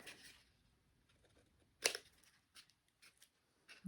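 Scissors snipping through scored watercolor paper while trimming matchbox pieces, a quiet room with one sharp, clear cut and a few softer, shorter snips spaced out afterward.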